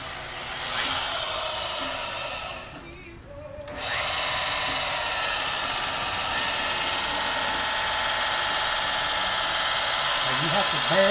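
Car paint polishing machine working on a Saab 9-7X: a steady high-pitched motor whine that dips briefly, then rises and holds higher and louder as the machine speeds up, with faint talk underneath.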